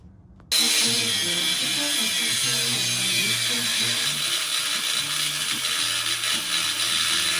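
A ratchet or power tool works bolts loose on the suspension of a Chevrolet S10 truck during a solid axle swap. It starts abruptly and then makes a continuous loud mechanical whirring and clicking, close up, with no talk.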